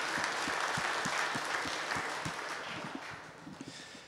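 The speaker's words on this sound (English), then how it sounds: "I think they all deserve a big round of applause" An audience applauds at a dairy cow championship show, a brief burst of clapping heard from a distance at moderate volume that fades slightly toward the end.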